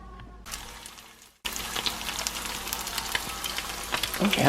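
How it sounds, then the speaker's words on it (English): Shrimp egg rolls deep frying in a fryer crackle and sizzle loudly and steadily after a brief quieter start, the bubbling oil popping with dense bright spatter. "they pretty much in the fryer, guys"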